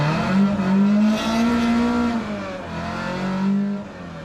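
A car launches hard from a red light using launch control, its engine revving loudly and rising in pitch as it accelerates, then easing and climbing again in a second surge, close and without talk.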